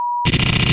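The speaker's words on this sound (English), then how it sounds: "Please leave your message after the beep." A voicemail beep after a recorded phone message, one short, clean, pure tone lasting about a quarter second before music bursts in.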